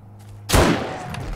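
A single sharp gunshot bursts out loud in the 7 Days To Die Alpha 19 game, followed by a lingering reverberant tail over steady game ambience.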